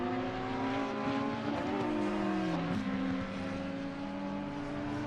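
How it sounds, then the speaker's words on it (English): A Porsche race car engine in a console racing video game, climbing a mountain circuit at Bathurst: a steady high engine whine with shifting pitch as it revs, plus faint tire noise and no talk. "As we watch the Porsche climb the mountain"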